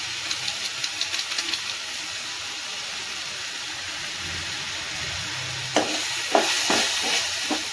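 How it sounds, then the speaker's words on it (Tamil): Spices with garam masala and chilli powder sautéing in a pan, a steady hissing sizzle close by, with a run of rhythmic scraping stirs toward the end. "நல்லா கலந்து விட்டு வதங்க விடலாம்"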